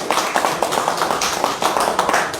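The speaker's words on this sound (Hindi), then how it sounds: "खालिद साहब, जोरदार तालियों से स्वागत करें, वेलकम करें।" Vigorous clapping from a crowd at a BJP induction event in Kashmir, welcoming a new party member, dense rhythmic applause throughout, close and loud.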